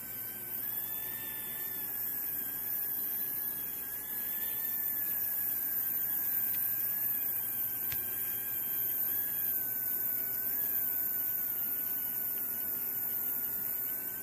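A small 3V electric motor, rebuilt several times after burnouts, runs on 12V with a steady, unbroken high-pitched whine and hum. The tone wavers only slightly, with no talking.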